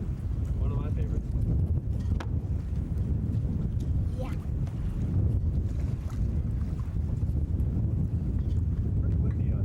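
Steady, heavy wind rumble buffeting the microphone on a moving boat off Catalina, with a brief spoken word and faint voices underneath.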